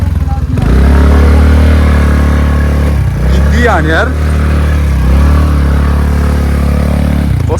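A scooter engine strains on a rough road at night with a loud, steady drone and some rattling, while someone talks over it partway through.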